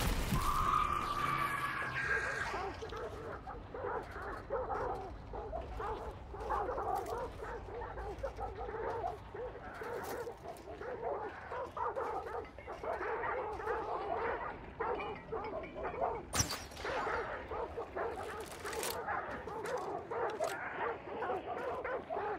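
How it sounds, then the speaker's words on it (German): Dogs barking and yelping in the video game Hunt: Showdown, a steady busy run of barks and whimpers over game noise, with someone talking over it. "die Hunde machen mich fertig"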